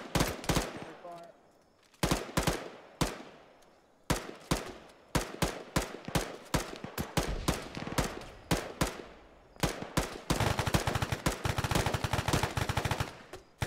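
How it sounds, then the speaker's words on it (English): Repeated bursts of machine gun fire in the military video game ArmA 3, loud, close and sharp, coming in rapid strings with short pauses and ending in a long sustained burst. "Machine gun"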